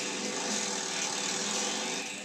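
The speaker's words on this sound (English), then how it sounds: "The DYNO measures engine power, and Jason's old knucklehead is no match for Mike's newly built Pan" Custom chopper motorcycles, an old Knucklehead and a newly built Panhead, run on a dyno, their engines holding a steady, loud, continuous drone without breaks.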